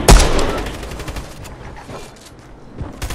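Gunfire in Fortnite, a loud burst of rapid shots up front that thins into scattered, fainter shots and impacts over the following seconds, with no talk.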